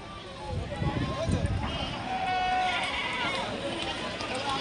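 Bleating from a Sojat goat amid a busy livestock market at Chakan, with animal calls rising over a dense crowd murmur and people talking nearby.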